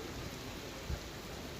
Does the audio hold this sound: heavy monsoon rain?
yes